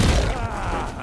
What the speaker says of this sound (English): I've detonated.